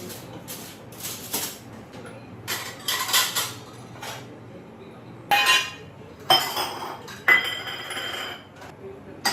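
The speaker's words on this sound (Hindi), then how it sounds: "तो यहाँ पर जो है अब मैं बर्तन रखूँगी" Dishes and utensils are put away in a home kitchen with irregular clinks and clatters of metal pots, cutlery and glass. The bursts are close and sharp, with quieter handling between them and no speech.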